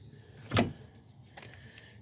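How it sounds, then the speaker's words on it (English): A car door on a used vehicle shuts once with a sharp, close thud, followed by a fainter second knock about a second later against a quiet background. "The doors close open nicely."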